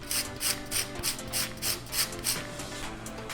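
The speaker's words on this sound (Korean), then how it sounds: "이 레몬 껍질을 갈아 넣으면" Lemon peel rubbed against a grater to make zest, giving a steady series of soft, close rasping strokes in an even rhythm, with no talk over it.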